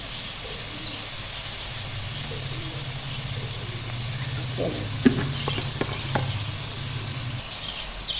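Chopped medium onions sizzle steadily in half a cup of hot oil, a continuous hiss with a few light clinks of a utensil against the pan near the middle.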